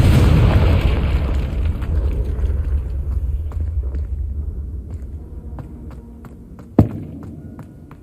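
Confringo spell explosion in Hogwarts Legacy: a loud booming blast with heavy low rumble that slowly decays over several seconds, scattered light taps, and one sharp crack near the end.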